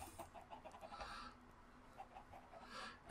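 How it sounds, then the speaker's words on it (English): Minecraft chickens clucking softly in short, scattered bursts, faint and somewhat distant over low background noise, with no talking. "Nugget was the chicken that was over by Tenpenny Tower."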